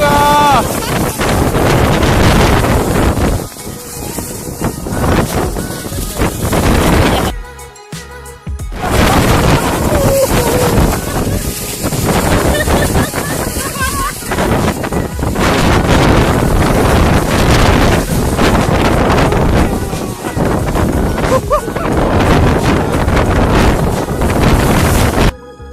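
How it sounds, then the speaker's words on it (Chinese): Strong wind buffets the microphone on a rainy day in Portugal or Spain, a loud continuous roaring rumble with a brief drop in the middle, while people talk over it. "好大风啊！"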